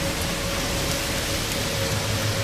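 Steady rain falls in a continuous, even hiss with no break, filling the scene without voices.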